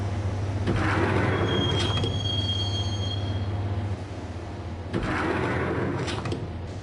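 A train ride in the video game Max Payne: a steady low rumble of the moving carriage with squealing wheels and a couple of clunking bursts, heard from inside the car with no voices.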